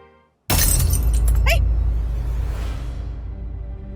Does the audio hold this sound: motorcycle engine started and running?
no